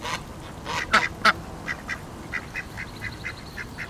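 A duck quacks loudly while being fed bread, a couple of strong calls followed by a quick series of shorter, softer quacks close by.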